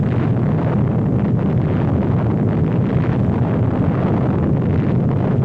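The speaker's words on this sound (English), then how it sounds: "The blast of an atom bomb is its most important destructive agent." Atom bomb blast from a 1951 civil defense film: a continuous, loud, rough roaring rumble with turbulent wind-like noise, sustained without break and no voices.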